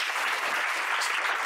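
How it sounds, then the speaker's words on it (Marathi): Steady applause from an audience at a talk session for Colonel Dhiraj Udapure, a dense, even wash of clapping from many hands that holds for the whole moment. "एकदा धीरजसाठी जोरदार टाळ्या."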